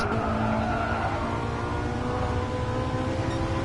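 A Ferrari race car engine drones steadily at sustained high revs, a constant loud mechanical roar with no breaks or other sounds.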